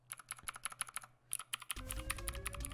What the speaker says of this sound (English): We're on this new mini gaming keyboard. We have blue switches on these, and these are like extremely loud